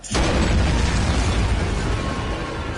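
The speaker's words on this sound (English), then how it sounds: "That's a nuclear bomb explosion." A huge nuclear bomb explosion bursts in suddenly and rolls on as a deep, sustained roaring rumble that slowly fades.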